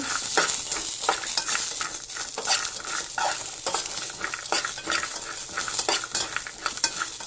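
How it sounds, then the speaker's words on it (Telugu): Chana dal fries in a pan under repeated stirring, with rhythmic metal scrapes and clinks over a soft sizzle; close and steady, without speech. "కొంచెం శనగపప్పు, దీన్ని కొంచెం ఫ్రై చేసుకోవాలి"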